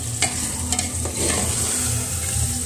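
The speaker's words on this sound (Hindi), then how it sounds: "अच्छे से बीच बीच में चलाते रहेंगे ताकि हमारा मसाला अच्छे से हो जाए।" Masala for an aloo matar tahri fries in oil while a spoon stirs it, with a steady sizzle broken by a few sharp scraping strokes against the pan, close and clear, with no talking.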